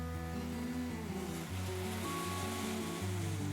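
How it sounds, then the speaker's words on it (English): Beef broth poured into a hot pan of browning schnitzel drippings, a steady rushing, surf-like wash of liquid with a low hum underneath, close and continuous, no talking. "Add some beef broth."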